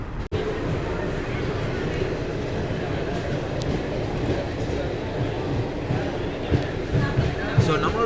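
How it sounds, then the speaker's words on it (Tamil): Garib Rath AC Express train rolling out of Thiruvalla station, a steady loud rumble of wheels and carriage noise throughout, with faint onboard voices mixed in. "நம்மளோட ட்ரெயின் இப்போ பார்த்தீங்கன்னா திருவள்ளா ஸ்டேஷன்லேருந்து டிபார்ட் ஆகி போயிட்டுருக்குங்க"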